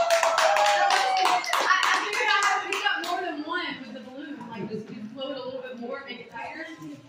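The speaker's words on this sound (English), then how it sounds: "How about a round of applause for our champions?" Clapping from a small party group celebrating the champions of a Cuphead game contest, sharp dense hand claps in the first few seconds that thin out, with children's voices chattering underneath.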